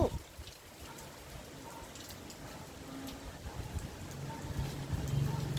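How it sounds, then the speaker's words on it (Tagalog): Steady rain falling during a strong typhoon in rural Paniqui, Tarlac, a faint continuous hiss with scattered drips and gusting wind, swelling slightly louder toward the end. "Ayan, tuloy-tuloy po yung ulan"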